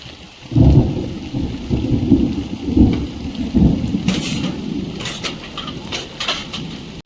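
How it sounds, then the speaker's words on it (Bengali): Heavy rain pours down while deep thunder rolls through, followed by sharper cracks and patters of raindrops near the end, loud and close, no talking. "সকালবেলায় সব কাজ ভেস্তে দিয়ে বৃষ্টি চলে আসলো"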